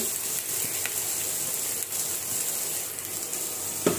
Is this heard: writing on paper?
no